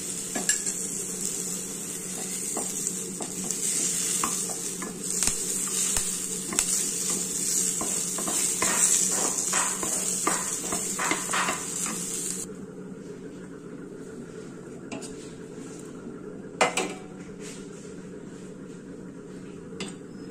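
Curry leaves and chillies sizzle and fry in hot ghee in a pan for a Konaseema peanut chutney, with steady crackling and occasional stirring and utensil clinks, louder at first and then quieter.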